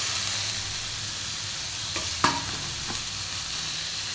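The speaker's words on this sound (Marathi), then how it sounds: "आता मटकी टाकून घेऊ." Moth beans stir-fried in a pan with fried onion, red chilli, salt and turmeric, a steady loud sizzle with a couple of brief scraping stirs, close up and without voices.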